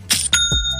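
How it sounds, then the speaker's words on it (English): A Shopify sale notification chime rings as a quick run of three or four bright, bell-like tones, clear and close, ringing out briefly on its own. "That's the sound of another sale on Shopify."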